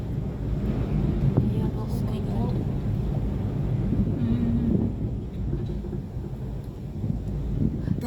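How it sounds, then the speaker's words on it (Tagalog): Strong wind high up on the Ocean Park cable car roars and buffets the microphone continuously, a loud rumbling rush with faint voices and motor noise beneath it. "Malakas ang hangin sa taas."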